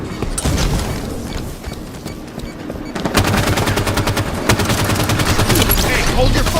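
Rapid automatic gunfire and explosions in the Halo 5: Guardians multiplayer video game, continuous and loud, with a brief voice heard beneath the shooting.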